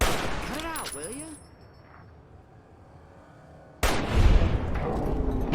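Rapid gunfire in Fallout: New Vegas, a loud burst of shots with ringing tones, then a quieter lull before another heavy volley erupts near the end.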